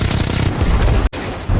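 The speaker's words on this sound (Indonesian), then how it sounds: "suara ledakan membelah udara" A loud, dense burst of booming blasts and crackling fire from a military guerrilla combat exercise, sustained across the clip with a sudden brief dropout before the roar resumes.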